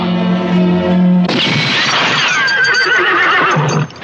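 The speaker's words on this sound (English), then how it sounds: "The gunman, indeed, and a horse whinnying." A horse whinnies loudly in a movie scene, a long wavering neigh rising and falling over a dense, dramatic soundtrack that swells midway and then cuts off near the end.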